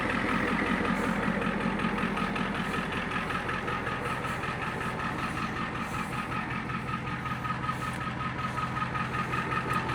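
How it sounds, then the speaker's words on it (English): An old dump truck with its engine running steadily, a constant loud mechanical drone with a rough rumbling texture, close by and without pause. "That's a tire that was spinning."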